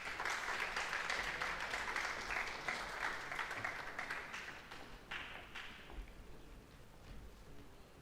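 An audience at a school presentation ceremony applauds an award winner, a dense crowd clapping that is strong at first and then gradually softens over several seconds.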